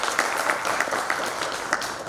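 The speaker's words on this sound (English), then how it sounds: "Great round of applause for Mr." An audience claps steadily at the concluding session of a conference, a sustained round of applause with scattered sharper claps standing out, fairly close and moderately loud.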